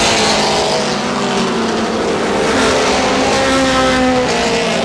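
Race cars at Star Speedway in New Hampshire roar down the front stretch off turn four, a loud, continuous wall of engine noise with overlapping, wavering revs and no pause throughout.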